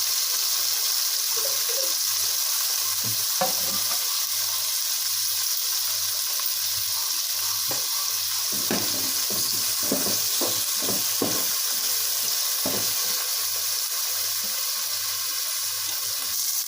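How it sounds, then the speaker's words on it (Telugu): Tomato pieces fry in a hot pan for curry, a constant loud sizzling hiss broken by scattered clinks and scrapes of stirring, with no talking. "టమాటా ముక్కలు అయితే వేసేసుకుంటున్నాం"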